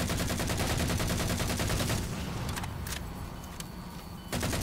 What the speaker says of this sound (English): Let's shoot it until it starts getting on fire.